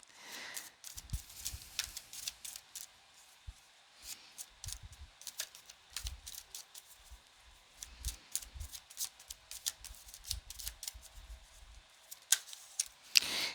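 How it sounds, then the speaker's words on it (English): A Wisdom of the Hidden Realms oracle deck is shuffled and a card drawn, heard as close, faint, irregular clicks and soft card flicks coming in scattered bursts. "we'll pull an oracle card from Wisdom of the Hidden Realms"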